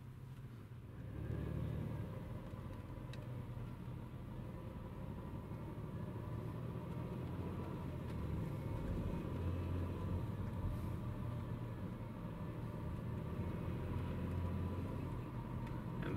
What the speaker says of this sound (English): Just kind of get a view of the backed up traffic.